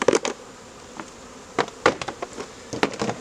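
A steady hum of honey bees buzzing close by while hives are being combined, punctuated by several sharp knocks and clunks of wooden hive parts as extra bees are dumped into the top.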